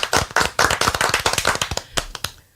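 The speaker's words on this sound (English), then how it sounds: "That was a good applause" A small audience at a quiz-style game claps in a loud, close burst of dense individual claps that thins out into scattered final claps, with no talk over it.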